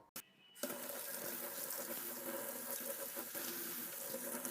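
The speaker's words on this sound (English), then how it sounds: "Now I'm going to go wash my hands." Water pours steadily from a kitchen tap into a sink for hand washing, a loud continuous rush that starts abruptly after a brief click and runs on alone.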